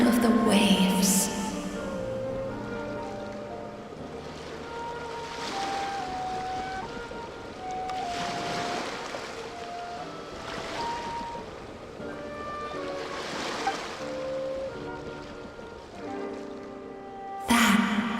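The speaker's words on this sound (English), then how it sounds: "Go to where you can hear the sound of the waves." Ocean waves in the Genshin Impact video game wash in slow, repeated surges, fairly soft, under a gentle musical backdrop with brief louder accents at the start and end.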